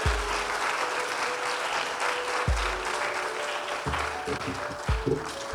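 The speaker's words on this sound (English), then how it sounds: "That clap can be louder" Loud, sustained audience applause at a debate championship grand finale and awards ceremony, a crowd clapping continuously with a few low thumps and a faint voice underneath.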